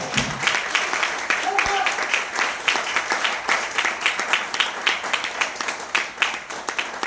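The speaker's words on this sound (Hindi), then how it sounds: "हमारे जबरदस्त सीएमडी सर के लिए जोरदार ताली हो जाए" A live audience claps loudly for the company's CMD at an Nj Mart event, dense sustained applause with scattered sharp claps running steadily throughout, with a brief voice near the start.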